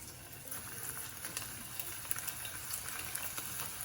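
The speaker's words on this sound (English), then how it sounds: "For the deep frying, let's check the oil. Okay, bubbling." Steady bubbling and crackling of hot oil heated for deep frying fish, a continuous dense fizz with scattered small pops, close and moderately loud.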